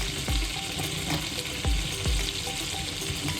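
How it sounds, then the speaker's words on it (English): Mushrooms frying in a pan, a steady close sizzle with occasional soft scrapes and stirring knocks from a utensil. "we're going to incorporate the mushrooms into there to get them cooking a little bit"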